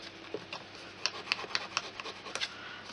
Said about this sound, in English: I'm just going to burnish each of the tabs on the inside of the box